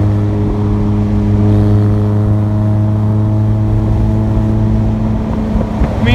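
A Mazda Miata at a Caffeine and Octane car meet accelerates with a steady, loud droning engine note whose harmonics hold almost level throughout, rising slightly at the end, with no talking over it.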